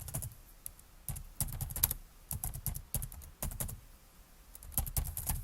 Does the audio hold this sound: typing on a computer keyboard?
yes